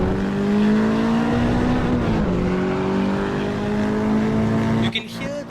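A race car in Assetto Corsa EVO holds a loud, steady engine tone that shifts slightly as it runs close to a wall, with the sound echoing back before a brief tire squeal and drop near the end.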